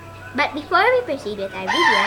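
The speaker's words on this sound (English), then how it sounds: "So if you hear roosters in the background, that's our neighbors." Neighbors' roosters crow faintly in the background, a couple of distant calls running under someone speaking close to the microphone.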